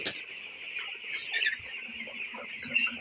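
Many 20-day-old broiler chickens clucking and chirping together in a steady, dense chorus in a crowded poultry shed, with a few louder calls rising above.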